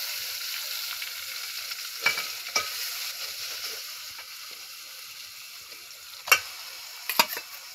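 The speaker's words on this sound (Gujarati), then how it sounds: "સીધો તમારે ઓરાનો વઘાર મારી દેવાનો" A tempering sizzles over a roasted eggplant orha, a soft continuous hiss with scattered clicks and a few sharper spoon-on-pan knocks, close and without talk.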